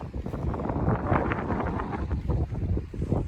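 Strong wind buffets the microphone on the sunny Scottish north coast, a steady low roar with gusty swells and no voices.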